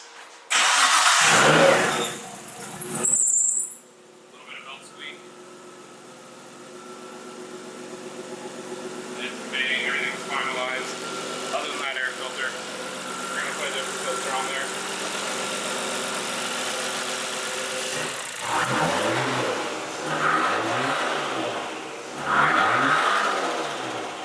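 Tuned turbocharged car engine running after a cold start, loud bursts of noise at first, then a steady idle hum with some rattling and a few clunks, ending in several revs that rise and fall, with brief talking near the start.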